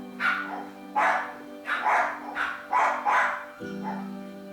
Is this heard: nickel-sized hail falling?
no